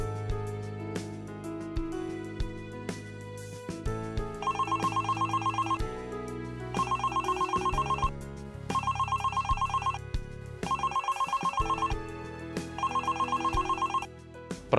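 A mobile phone rings on a test call routed through a BladeRF mini BTS cellular base station, sounding five loud, evenly spaced ring bursts with short pauses between them and no talking.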